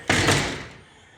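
A door swings shut with a single solid thud that rings briefly and fades over about half a second, close by and alone with no talk.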